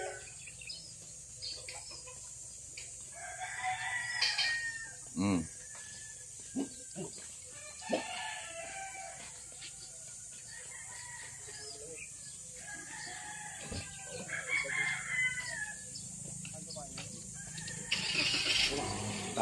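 Chickens and a rooster call intermittently in an outdoor setting, several crows and clucks spread across the stretch at moderate distance, mixed with other bird chirps and brief background voices.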